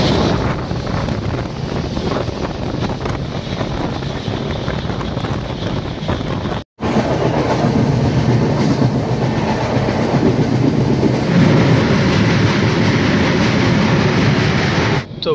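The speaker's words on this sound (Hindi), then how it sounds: "3 घंटे के बाद अपना ट्रेन तो छोड़ दिया" Gitanjali Express passenger train rolling on rails, a loud continuous roar of wheels and carriage rumble with wind buffeting the microphone, broken by one brief dropout midway, then resuming heavier and steady.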